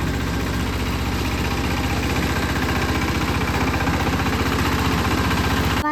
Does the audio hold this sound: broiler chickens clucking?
no